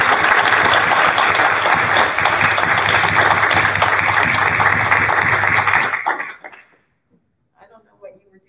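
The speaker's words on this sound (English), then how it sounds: "So they're going to turn around, and we're going to applaud for them," A church congregation applauds newly confirmed young people, sustained loud clapping for about six seconds that then fades out to near silence, with a few faint sounds afterward.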